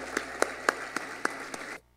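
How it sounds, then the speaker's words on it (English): At a school district Teachers of the Year awards ceremony, a handful of sparse claps ring out at a steady pace, fairly faint and distant, before cutting off abruptly. "let's just give one more round of applause for all these amazing winners"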